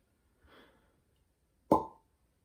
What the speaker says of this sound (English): Good cork pop. I always get a good cork pop out of these.